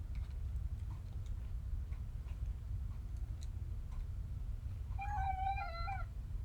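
A house cat gives one drawn-out, wavering meow near the end, close and clear over a low steady background hum with faint ticking.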